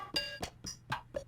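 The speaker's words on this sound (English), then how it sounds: "The percussion kit sounds like this." A percussion kit played on MPC Live 3 pads gives five quick, separate hits in just over a second, each a short bright clicking or clinking strike that fades fast, heard alone and fairly quiet.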